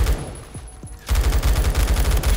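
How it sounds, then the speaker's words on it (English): Rapid automatic fire from a G36 rifle in the Roblox shooter Phantom Forces: a fast, even burst of loud shots that starts abruptly after a quieter moment and rattles on steadily to the end. "He's shooting at his other teammate."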